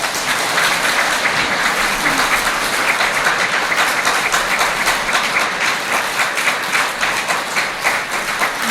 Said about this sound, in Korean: 박수 한번 치셔야지.